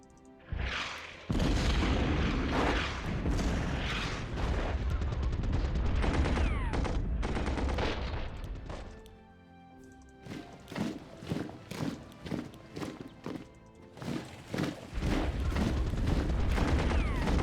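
Naval bombardment of enemy units in Commander: The Great War, heard as a sustained barrage of heavy booms and gunfire, followed by a quieter lull, then a run of separate sharp blasts before the roar resumes.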